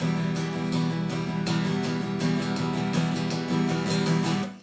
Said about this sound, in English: The next thing we're going to work on is 8th note strumming